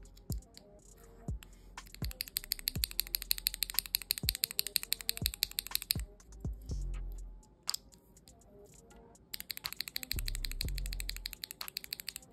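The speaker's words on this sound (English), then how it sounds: "The Skyloong switches sound really good." Typing on a Skyloong SK96 keyboard with Skyloong and Gateron switches, a rapid, close run of crisp keystrokes with a few louder, deeper thocks, likely the spacebar, and a short pause partway through.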